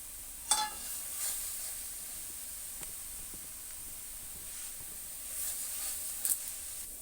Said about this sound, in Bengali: মশলা কষাচ্ছি, আর এটা হলো কি মটরশুঁটি